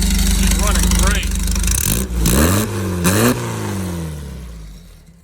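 A VW Beetle Baja engine runs and revs up close, with strong low harmonic engine tones rising and falling through a few throttle blips, while people talk over it.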